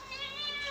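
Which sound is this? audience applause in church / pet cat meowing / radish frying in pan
pet cat meowing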